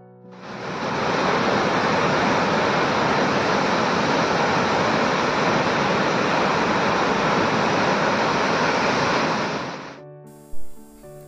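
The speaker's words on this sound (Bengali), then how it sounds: "ঝর্ণার জলের কি আওয়াজ!" Hundru Falls on the Subarnarekha river in Jharkhand roars as a loud, steady wash of falling water for about ten seconds, then cuts off abruptly into near quiet.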